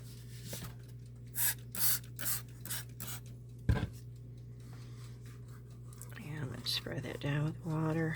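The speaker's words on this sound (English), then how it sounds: "Spray that down with water." Water misted from a spray bottle onto air-dry or polymer clay jewelry and ornaments, a few short hissing bursts over a steady background hum, with a voice talking near the end.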